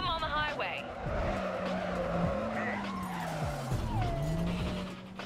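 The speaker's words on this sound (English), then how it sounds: "The brake is barely functional and you have to rely on the handbrake, which makes you drift." Game car in Need for Speed drifting on the handbrake, with loud sustained tire squeals that bend and slide in pitch over a steady engine drone, repeating several times close up.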